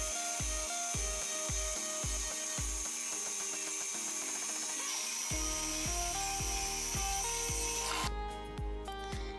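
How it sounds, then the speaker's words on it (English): A battery-powered saw cuts lengthwise along a piece of wood for a garden mirror frame, a steady loud buzzing drone with a rapid pulsing rhythm running throughout, close up with no voices. "I used the exact same method, running the saw straight along that piece of wood there"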